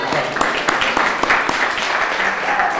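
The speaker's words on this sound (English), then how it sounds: "I want to say another applause. You did a fantastic job singing the national anthem." Applause for a national anthem singer at a Cape Verdean Association Martin Luther King Jr. Day celebration, a roomful of steady clapping with a few sharper close claps and some voices beneath.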